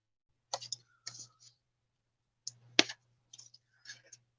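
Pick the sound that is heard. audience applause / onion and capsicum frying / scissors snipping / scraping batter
scissors snipping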